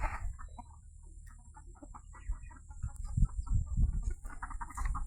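Several chickens cluck and chatter close by while scratching through manure in a cattle shed, soft repeated calls over a low rumbling background, growing busier toward the end.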